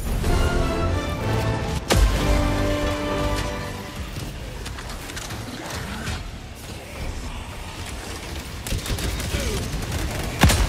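Heavy support-weapon gunfire in the video game Helldivers 2, a dense, sustained barrage with sharp loud blasts and crackling impacts over a rumbling battlefield, heard alone without talk.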